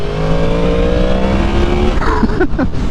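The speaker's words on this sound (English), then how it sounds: "it's got such a nice growly exhaust note" A 2023 Yamaha MT-10 naked motorcycle gives a loud, steady, growly exhaust note held close at a constant pitch, with a couple of sharp throttle blips near the end.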